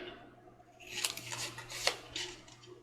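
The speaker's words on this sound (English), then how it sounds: "We're going to cut that corner off and kind of do it at an angle. Okay, and then we're going to cut here, and here," Scissors snipping paper while a pop-up envelope box is being made, quiet close-up cuts in a short run of crisp snips and slides, with no talking.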